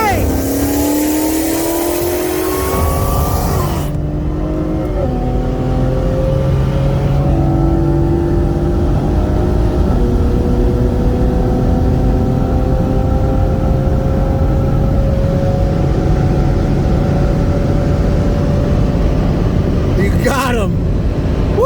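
A 2021 Dodge Challenger Hellcat Redeye and a 2020 BMW M340i with bolt-ons on E85 accelerate hard from a 50 mph roll, engines loud and near, climbing through several gear shifts, with wind roar and voices talking over them.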